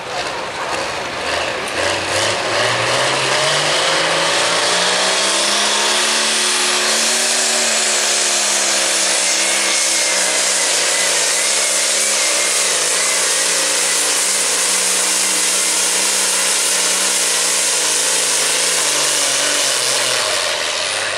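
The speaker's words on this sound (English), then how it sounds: "So you watch the different colors in the smoke, listen to the spool" Pulling tractor at the Prairie Pulling League's Thunder on the Prairies tractor pull, its engine spooling up loud and continuous for twenty seconds, a rising whine over heavy roar that climbs, holds steady and dips near the end.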